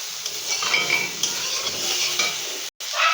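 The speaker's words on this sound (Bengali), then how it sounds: "দেখুন সয়াবিনটা ঢেলে নিলাম। এবার এইটাকে ভালোভাবে কষিয়ে নেব সুন্দরভাবে।" Fried soybean chunks sautéed and stirred in a pan, giving a steady close sizzle with scraping and clinking from utensil against metal, and a brief drop to silence near the end.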